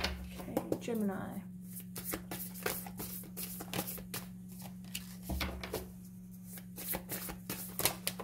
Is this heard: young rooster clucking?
no